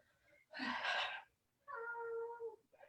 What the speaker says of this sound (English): Your cat is hungry.